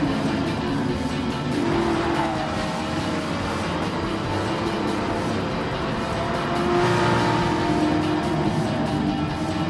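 Race cars in the video game GT Sport roar through a continuous high-revving engine drone, with several cars passing close together and faint tire squeal, loud and sustained with no talking.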